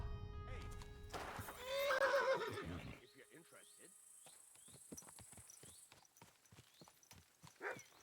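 A horse in Kingdom Come: Deliverance II whinnies loudly and close, then its hooves clip-clop in a steady walking rhythm, with crickets faintly chirring in the background.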